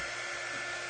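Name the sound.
hair dryer blowing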